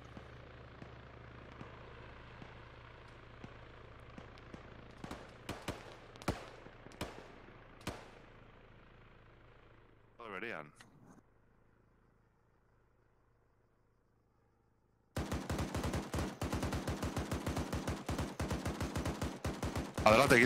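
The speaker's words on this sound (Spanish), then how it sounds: "Nos disparan." Video game gunfire erupts as rapid bursts of sharp shots in the first half, a few louder isolated cracks around the middle, then a dense, continuous stretch of loud automatic fire near the end.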